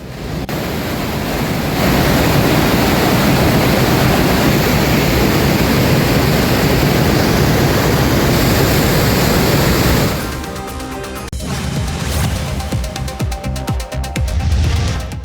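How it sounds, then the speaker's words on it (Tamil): Manimuthar waterfall in the Western Ghats of Tirunelveli, flooded after heavy rain, roars as a loud, dense, continuous rush of falling water, with wind buffeting the microphone near the end. "நெல்லை மாவட்டம் மேற்கு தொடர்ச்சி மலைப்பகுதியில் பெய்த கனமழை காரணமாக மணிமுத்தாறு அருவியில் வெள்ளப்பெருக்கு ஏற்பட்டதால்"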